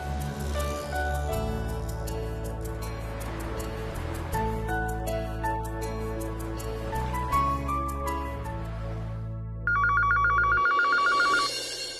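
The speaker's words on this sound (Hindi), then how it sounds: "कंपनी में फोन करता हूँ" A telephone rings during an outgoing call to a company, heard as a repeating electronic ring pattern over a steady bed of television drama background music, with a brighter burst of ringing near the end.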